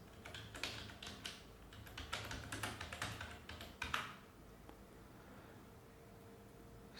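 Fingers type a command on a computer keyboard in quick, close clicks and taps for about four seconds, ending in a firmer keystroke before quiet room noise.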